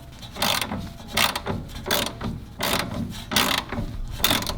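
A ratcheting wrench clicks steadily while loosening a bolt on an Audi B9 S4 during a lowering-spring install, with six close, crisp bursts of rapid pawl clicks in a regular rhythm and almost no talk.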